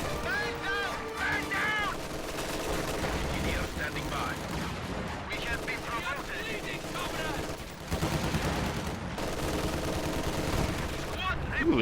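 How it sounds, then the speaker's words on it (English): Heavy mortar shells and other gunfire pounding in a video game battle, dense continuous booms, bursts and rattling fire layered throughout, loud and busy with a voice talking underneath. "that was a big hit by the mortar"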